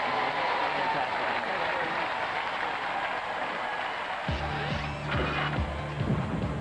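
Studio audience at a Robot Wars Extreme Warriors robot combat event gives a steady round of applause, sustained clapping throughout with a low hum and a voice coming in near the end.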